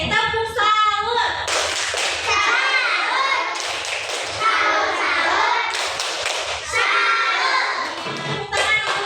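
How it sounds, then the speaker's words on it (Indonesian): A classroom of children claps for a pupil named Paris, with busy, uneven applause and excited young voices calling out close by across the whole stretch. "Terima kasih, tepuk tangan untuk Paris."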